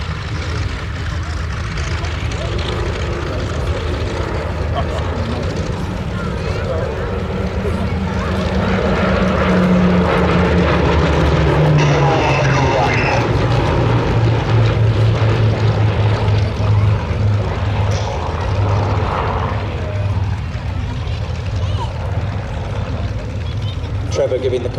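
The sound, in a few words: Hawker Hurricane WWII fighter plane propeller engines flying overhead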